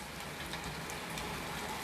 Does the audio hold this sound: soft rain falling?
yes